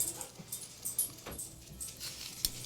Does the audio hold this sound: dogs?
yes